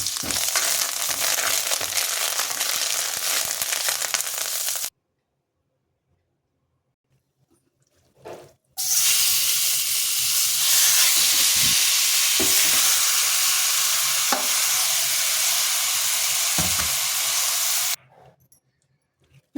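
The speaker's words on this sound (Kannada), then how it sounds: "ನಾನು ಒಗ್ಗರಣೆಯಲ್ಲಿ ಚೆನ್ನಾಗಿ ಮಿಕ್ಸ್ ಮಾಡಿದ್ದೀನಿ" Hot oil sizzles in a pan as a tempering of garlic, turmeric and asafoetida is stirred, a loud steady crackle with occasional scraping knocks, cutting to near silence midway before the frying resumes and then stops.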